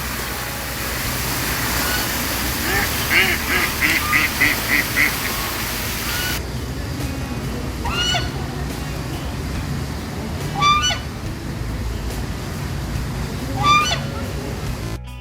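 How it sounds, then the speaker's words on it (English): Ducks quack in short bursts over a steady outdoor wash of fountain water and ambient noise at a park lake in Ankara, Turkey, with several separate calls spaced across the recording. "You can listen the beautiful voice of the ducks"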